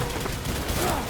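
Burst of rapid gunfire from the video game Death Stranding, a dense crackling volley that fills the brief moment at close range.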